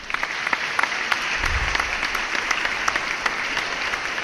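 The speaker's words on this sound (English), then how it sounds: "Can we please have a warm round of applause, please?" Steady, sustained applause from a conference audience, a dense wash of many hands clapping at close to moderate distance with a few sharper individual claps standing out, continuing throughout.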